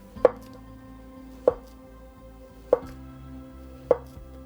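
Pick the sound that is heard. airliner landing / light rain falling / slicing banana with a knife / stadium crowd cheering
slicing banana with a knife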